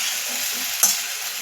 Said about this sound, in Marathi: आता आपण ह्या सॉसमध्ये हे सगळं व्यवस्थित परतून घेऊया.